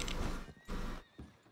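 A horse in Red Dead Redemption 2 whinnies in a short, breathy neigh with a second fainter burst after it, close and fairly quiet, with no talking.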